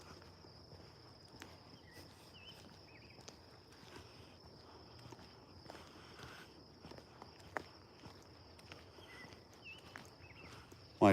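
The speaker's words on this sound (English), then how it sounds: "My footsteps." Footsteps walking through a quiet park, soft and steady close by, with crickets chirping faintly in the background and an occasional bird.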